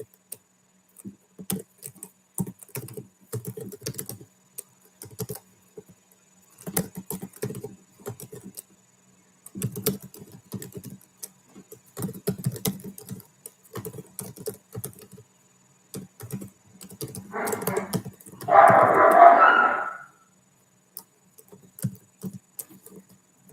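Steady bursts of computer keyboard typing while code is written, clicking in irregular clusters close by and quiet, with a louder brief rustle near the end.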